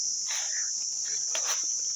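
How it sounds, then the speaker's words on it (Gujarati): A cricket chirps in village farm fields, a continuous shrill high-pitched trill held steady throughout, with faint rustles and distant sounds beneath it. "આ બોલે એ તમરું કહેવાય"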